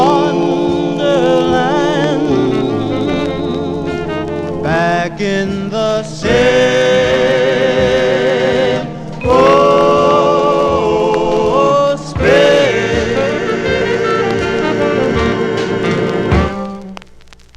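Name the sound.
1955 vinyl 45 record You Are So Beautiful by the Five Notes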